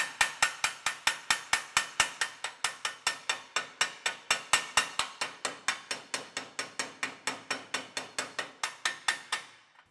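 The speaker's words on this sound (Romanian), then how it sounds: "Curățăm zgura cu ciocanul și peria de sârmă să vedem dacă piesele au fost străpunse." A hammer and wire brush chip slag off welded metal pieces after MMA welding, producing a rapid, even series of sharp metallic taps, close and loud, each decaying quickly, continuing for about ten seconds.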